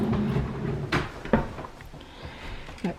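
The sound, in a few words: kitchen cupboard door opening and closing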